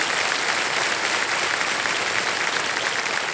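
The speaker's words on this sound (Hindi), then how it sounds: "एक बार फिर तालियों के साथ इनका स्वागत करें" Studio audience at the KBC game show applauding, a dense sustained wash of clapping that stays loud and even from start to finish with no voices over it.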